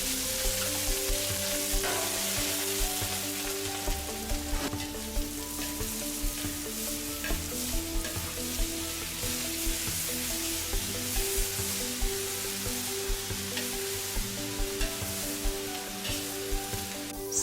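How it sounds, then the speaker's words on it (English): Lamb meat and onions fry and sizzle steadily in warm sunflower oil in a saucepan for a Turkish tas kebab, with a dense continuous crackle, occasional louder pops and stirring scrapes, close and alone. "After the oil is warm, add meats and onions and stir."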